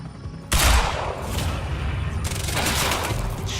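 Sustained assault rifle fire in the video game Quantum Break, a loud burst of rapid shots opening with a heavy blast and continuing as a dense, rattling fusillade.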